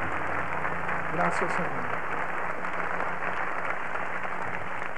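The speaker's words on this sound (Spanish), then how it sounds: "Denle un aplauso a Cristo." A church congregation at a worship celebration applauds in a sustained, even wash of clapping, while someone speaks briefly over it.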